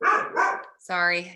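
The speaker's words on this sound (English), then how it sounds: "if you hear barking in the background" A dog barks close by, a couple of sharp barks followed by a longer, whiny yelp, while a person briefly speaks.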